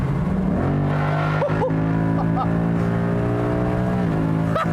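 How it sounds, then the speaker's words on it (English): A 2019 Ford Mustang GT convertible's V8 engine rumbles steadily with a deep, constant drone, its pitch rising briefly as it revs and then settling, loud and close throughout. "I've just been wanting to listen to that lovely V8 noise at every opportunity that I've got"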